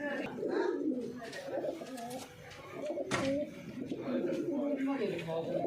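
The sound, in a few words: pigeons cooing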